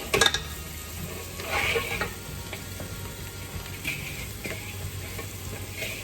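Roasted goat trotters drop into a hot pan and sizzle steadily, with a few stirring scrapes and light clatter of utensils against the pan, close and continuous without talk.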